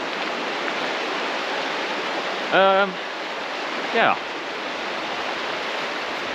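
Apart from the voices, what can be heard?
river flowing nearby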